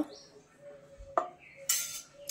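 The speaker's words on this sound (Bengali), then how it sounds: "এখন আমি টমেটোটা কেটে নেব।" A knife slices a tomato into small quarters in a home kitchen, with a few sharp, separate taps and clinks against the board over a quiet background and no talk.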